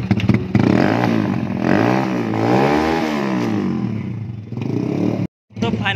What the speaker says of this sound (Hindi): इस बाइक का साइलेंसर थोड़ा मॉडिफाई किया हुआ